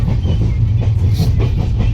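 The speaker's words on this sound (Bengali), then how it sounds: "এই যে 2:25-এ ট্রেন ছাড়লো, আমরা খুব এক্সাইটেড।" A train rolls along with a steady low rumble and rhythmic rail clatter, a continuous loud drone close by that never lets up, heard from inside on a trip to Kalimpong.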